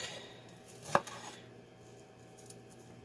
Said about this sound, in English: So I'm just going to cut it into some bite-sized pieces.